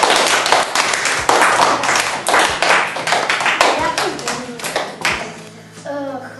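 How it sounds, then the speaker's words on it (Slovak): Children in a school classroom clap their hands in steady, loud, close applause that gradually thins out and stops, with a voice heard near the end. "A potlesk si nezaslúžil?"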